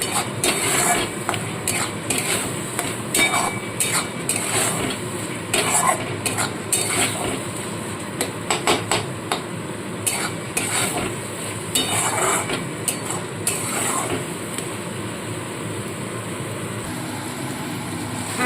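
Ginger, garlic and onion sauté in oil for a fish rezala, a steady sizzle broken by repeated scraping and clattering of a spatula against the pan, close and fairly loud.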